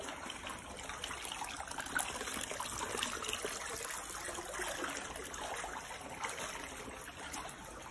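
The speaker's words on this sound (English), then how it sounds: "water comes out from the rock." Steady soft trickle of water running from rock inside Ogbunike Cave, a continuous gentle wash with faint echo and no voices.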